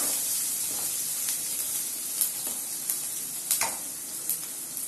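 Oil sizzles in a pan while ingredients are sautéed for vendhaya kulambu, a bright steady hiss broken by several sharp spitting bursts and scrape-like stirring strokes near the end, close up with no voices.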